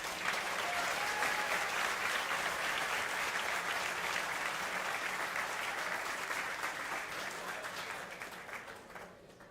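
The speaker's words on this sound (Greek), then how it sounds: "Παρακαλούμε λοιπόν να χειροκροτήσουμε όλοι μαζί δυνατά τους αθλητές μας." Audience applause for athletes at a medal ceremony, sustained dense clapping from a crowd that holds steady then slowly tapers off, with no talk over it.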